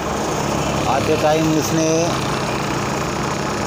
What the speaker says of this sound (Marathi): MH18 गाड़ी अशोक लेलैंड BS4 इंजिन।